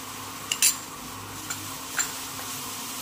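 Spatula stirring ground green chili into samosa filling in a pan: a few quiet, separate scrapes and clinks against the metal over a faint steady sizzle, nearby and soft.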